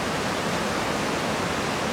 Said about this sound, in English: the sound of gushing water